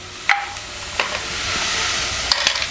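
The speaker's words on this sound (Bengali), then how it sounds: "এটাকে আমরা এবার নাড়তে থাকব। চুলার জালটা হালকা একটু বাড়িয়ে দিলাম।" Chopped onion frying in a pan on the stove, stirred with a utensil, giving a continuous close sizzle and a few sharp scraping clicks.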